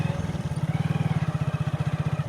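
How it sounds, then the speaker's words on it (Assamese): Motorcycle riding along a flooded main road in Dhemaji, Assam, its engine close and pulsing in a rapid steady rhythm, heard alone without talk. "তো মই বাইক লৈ গৈ আছোঁ,"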